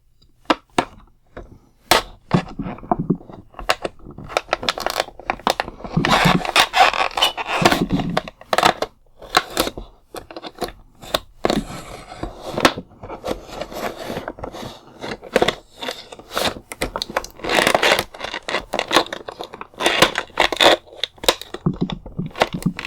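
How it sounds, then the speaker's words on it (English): An X-Acto knife cuts and slices through plastic toy packaging for a DC Universe Total Heroes Hawkman figure, a close run of irregular scraping, crunching and snapping strokes, loud and busy throughout with brief pauses. "I've got my handy X-Acto knife here, and we're just going to cut into this thing and see what we got"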